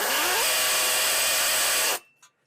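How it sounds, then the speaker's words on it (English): A hammer drill bores into concrete beside a window well, grinding loudly and continuously at close range for about two seconds before cutting off abruptly, followed by a faint rattle. "You'll hear it makes a funny noise, because it's actually drilling and hitting it."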